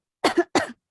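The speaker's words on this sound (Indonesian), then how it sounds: "Saya batuk." Two quick, close coughs in succession, loud and near, with silence around them.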